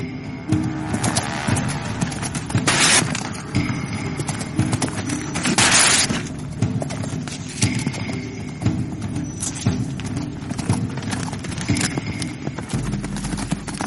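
A horse gallops in a race against a camel. Its hooves clip-clop in a steady rhythm that carries on without a break over a busy outdoor background, with no clear talking.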